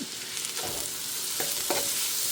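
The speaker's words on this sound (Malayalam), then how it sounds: "ക്യാരറ്റും കൂടെ ചേർത്ത് ഒന്ന് വഴറ്റിയെടുക്കണം" Finely chopped carrot sautés in a pan with cashews and raisins for rava upma, giving a close, even sizzle punctuated by a few sharp stirring scrapes.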